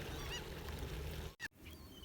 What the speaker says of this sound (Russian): а там чайки, короче, тоже собираются кушать